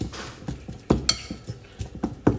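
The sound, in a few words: mashing ripe bananas with a fork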